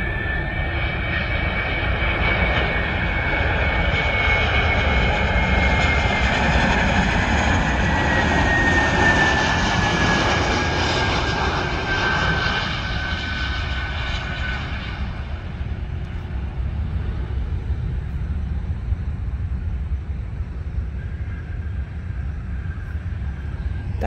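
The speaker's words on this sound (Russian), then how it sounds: "Вот летит вам самолет без следа" Fixed-wing airplane flying overhead near Minneapolis/St. Paul airport: a loud, steady broad engine roar with a whine sliding downward, fading slightly as it passes over, alone with no talk.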